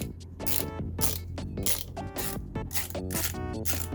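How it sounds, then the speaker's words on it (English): A screwdriver unscrews pentalobe screws from an iMac, making rapid ratcheting clicks in repeated bursts, close and fairly loud, with no talking. "So let's unscrew this."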